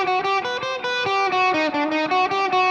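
Fast alternate-picked electric guitar lick, played descending across two strings, with steady, evenly spaced notes under light distortion, loud and close with no talking.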